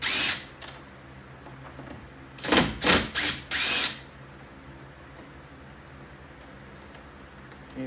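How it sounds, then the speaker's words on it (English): A cordless power drill backs out bolts while fitting a dash camera to a Ford Bronco: a short whir near the start, then several quick bursts in a row, loud and close against quiet background. "I'm gonna use my drill now. Take those 4 bolts off."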